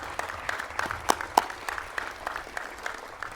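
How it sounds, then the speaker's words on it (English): Audience applause at a ribbon cutting ceremony for a technical education center, a steady patter of clapping from a modest crowd with a few louder claps standing out, heard alone without talk. "So a round of applause to these 4 senior staff members and Randy."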